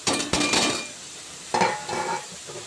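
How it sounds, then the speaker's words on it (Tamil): Onions and coriander leaves being lightly sautéed in a pan for onion rasam, giving two bursts of stirring scrapes and a soft sizzle, each fading before the next begins. "மல்லித்தலை சேர்த்துட்டு லைட்டாக வந்து வதக்கி விட்டுருவோம்"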